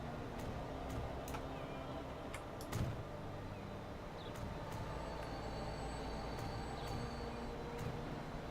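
A train rolling past in the video game Transport Fever, a steady low rumble of wheels and carriages with occasional faint clanks and squeals over a continuous mechanical drone.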